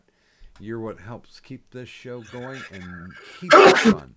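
A person speaks for several seconds, then lets out a single loud, sharp sneeze right at the end, close to the microphone.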